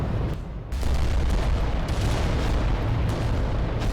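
Titan guns firing in the Adeptus Titanicus game: after a brief quieter moment, a loud, dense barrage of booming, rumbling gunfire sets in and continues heavily, with a few sharper cracks layered on top.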